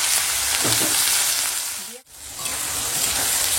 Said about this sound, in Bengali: তো এখন দিয়ে দিলাম তেজপাতা ফোড়নে, আর দিয়ে দিচ্ছি শুকনো লঙ্কা গোটা জিরে